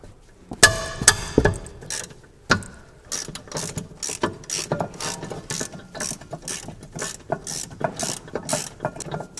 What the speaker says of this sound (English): we'll just unscrew it a little way and then we'll crack off the top one